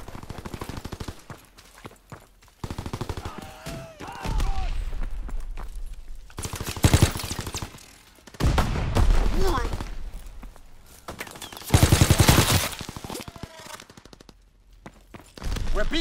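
Gunfire in Call of Duty: WWII on the Gibraltar map in a team deathmatch: loud bursts of rapid automatic fire and explosive booms alternating with quieter stretches, footsteps and game chatter in between.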